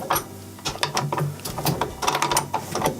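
A hand tool ratchets out the half-inch motor screw on a Whirlpool washer, with rapid clicking and clattering mechanical bursts in an uneven rhythm, close up and with no talk.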